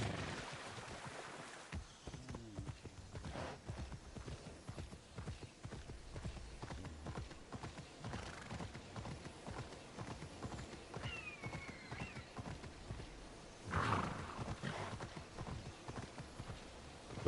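Horse hooves clip-clop steadily as a mount travels in the action-adventure video game Immortals Fenyx Rising, with a brief neigh and game ambience mixed in, moderately loud and continuous with a louder swell near the end.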